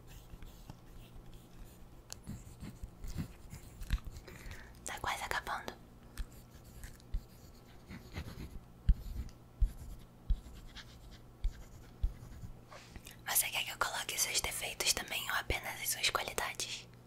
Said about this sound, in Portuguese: Eu vou desenhar você